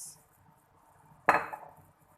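A metal spoon clinks once against the rim of a pot while adding oyster sauce to hot and sour soup, a single sharp clatter followed by a brief ringing tail in a quiet kitchen.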